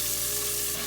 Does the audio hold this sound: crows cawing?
no